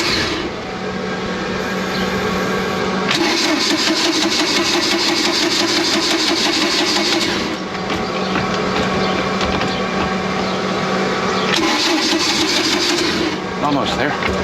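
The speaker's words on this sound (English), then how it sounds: "Mechanical pump, so it will take some cranking." Mercruiser 3.0 boat engine with a mechanical fuel pump cranking over, a loud rapid rhythmic churning that comes in bursts of several seconds with short pauses between, close to the listener, over a steady background whir.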